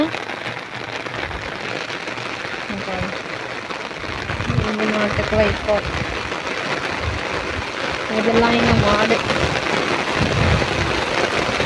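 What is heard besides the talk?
heavy rain falling in a village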